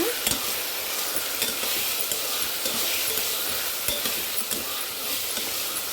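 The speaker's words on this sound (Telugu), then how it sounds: "ఇప్పుడు ఈ అల్లం వెల్లుల్లి పేస్ట్ ఇవన్నీ కూడా కాసేపు వేగాలి." Ginger garlic paste frying in a pan for a vegetable biryani makes a continuous loud sizzle, and frequent stirring scrapes and clinks sound close by with no talking.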